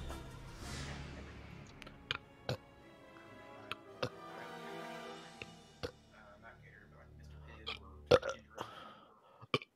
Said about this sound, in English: This fake burp.